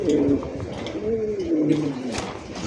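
Pigeons coo steadily nearby, with layered throaty calls from a breeding pair among mixed fancy breeds such as potter, beauty racer and satin, sounding close and continuous over faint background noise.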